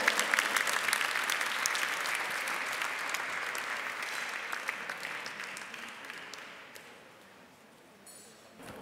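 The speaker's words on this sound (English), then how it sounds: "give her a round of applause" An audience at an evening awards forum breaks into sustained applause, dense clapping filling the room for several seconds before thinning and fading out.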